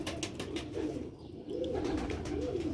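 A pair of Sialkoti Ali wale pigeons coo close by, soft low rolling coos repeating in a gentle rhythm over faint background noise.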